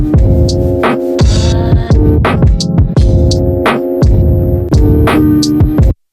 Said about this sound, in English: maybe we can crank up the age on that tape a bit